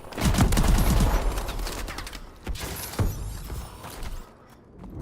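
Rapid shotgun fire in Call of Duty Advanced Warfare, a burst of close repeated blasts at the start followed by a few scattered heavier shots and mechanical clatter, with loud game ambience.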